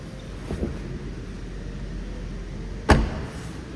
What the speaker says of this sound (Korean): 트렁크도 이렇게 다 내려서 닫아야 돼요